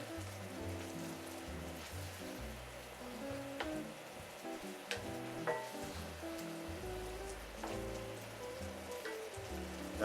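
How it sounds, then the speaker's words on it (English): Wine bubbles and sizzles as it reduces in a pan for poaching cod, a soft, steady crackle of small pops with faint background tones and no talk. "Let the wine reduce a little bit."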